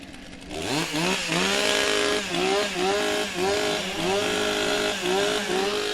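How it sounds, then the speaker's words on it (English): Several chainsaws rev up together at a STIHL Timbersports pro championship in New Zealand, engines rising and falling in repeated loud throttle bursts close by. "Warm up your saws."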